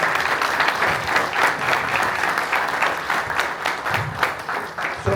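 Steady, dense clapping fills the hall as a conference audience applauds the NMSU and NMDA teams at a New Mexico soil health event, holding an even level with no voices over it.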